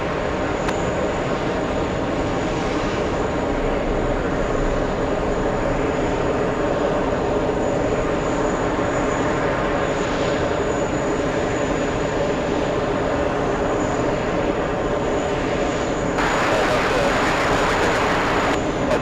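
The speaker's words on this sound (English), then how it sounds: "this is the South Korean government 747 staying on the runway a little too long, causing the go around" A South Korean government Boeing 747 goes around at JFK, a loud, continuous jet engine roar that holds steady and swells toward the end.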